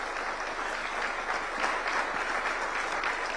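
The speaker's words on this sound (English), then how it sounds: "The Kenyan tradition is that we clap when he's coming in" An audience at a State House diplomatic briefing in Nairobi claps as the President enters, a steady, full room of applause that carries on without a break and without speech.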